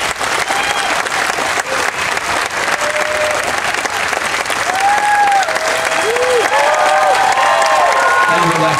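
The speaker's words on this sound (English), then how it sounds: "please, let's give our volunteers a fantastic round of applause" A comedy hypnotist show audience gives volunteers a loud, sustained round of applause with cheering and whistles, dense crowd clapping filling the whole stretch with voices rising through it.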